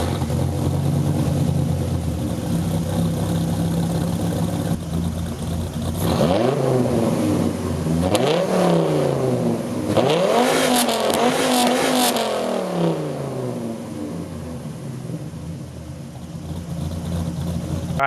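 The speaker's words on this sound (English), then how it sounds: "Now we'll see what the exhaust sounds like." A 1997 Dodge Viper GTS exhaust idles with a deep rumble, then revs hard three times in a row, each burst rising and falling loudly, before settling back to idle.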